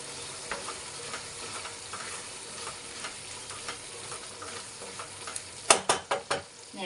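Tomato gojju with fresh coriander simmers in a pan with a soft, steady sizzle, and a few sharp clinks of stirring come near the end.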